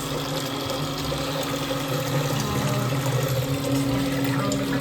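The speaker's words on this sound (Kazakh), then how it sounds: "Сепаратор аппаратына осылай құйып тұрамыз." A cream separator machine spins warmed milk in a village kitchen, a steady motorized whir with a sustained hum and faint liquid trickle running continuously and fairly close.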